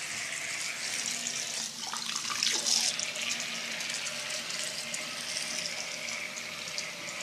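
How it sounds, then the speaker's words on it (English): A tap runs steadily into a sink for handwashing, a continuous close hiss of flowing water with a brief splashy swell partway through. "Now I need to wash my hands."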